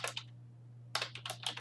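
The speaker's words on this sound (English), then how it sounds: "You just type in Glare." Two short bursts of keystrokes on a computer keyboard, close and quiet, separated by a pause, over a low steady hum.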